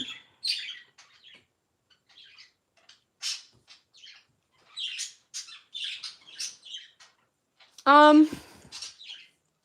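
Scattered pet bird chirps and squawks throughout, closing with one loud harsh squawk near the end.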